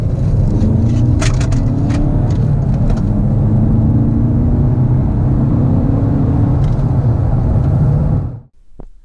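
A 2015 Audi TT accelerates hard from 30 to 70 mph, its engine droning loudly and steadily with rising tones and tire-road rumble before the sound cuts off abruptly near the end.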